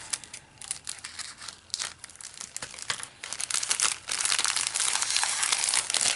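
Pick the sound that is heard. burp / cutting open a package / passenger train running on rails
cutting open a package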